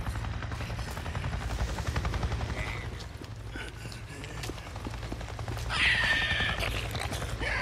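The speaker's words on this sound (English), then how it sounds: "a Fed chopper shows up out of nowhere" In the video game Days Gone, a Fed chopper's rotors thump steadily as it buzzes overhead, a continuous whirring drone with a mechanical rattle, joined near the end by a brief high whine.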